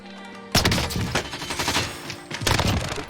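Rapid bursts of gunfire from Call of Duty Warzone, a dense volley starting abruptly, a brief lull, then a second burst of shots near the end, loud and close with no talk.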